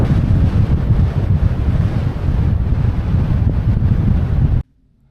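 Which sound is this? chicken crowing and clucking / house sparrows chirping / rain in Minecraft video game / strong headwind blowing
strong headwind blowing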